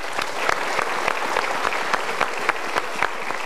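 Studio audience applause on an Indonesian TV talk show, steady dense clapping from a full room that holds the whole time with no voices on top.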